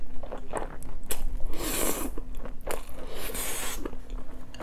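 Someone eats Buldak fire noodles with takoyaki close up, with loud, continuous wet chewing, biting and crunching and no talk.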